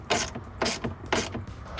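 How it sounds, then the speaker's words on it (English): A hand ratchet tightens the air box bolts on a Chevrolet Silverado 1500 cold air intake install, clicking in three quick bursts with short pauses between them, close and loud. "You torque them all down."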